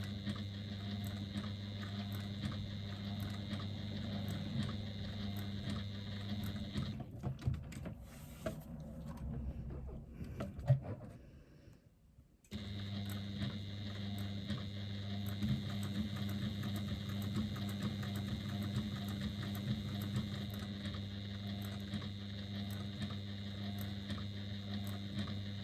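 A sewing machine stitches down faux leather pieces with a steady, close mechanical whir and motor hum; the running stops briefly midway, then resumes at the same even pace.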